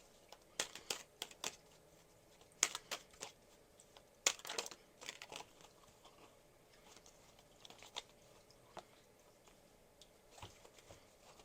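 Tarot card decks are shuffled in soft, irregular bursts of riffling and flicking clicks, some louder than others, against a very quiet background.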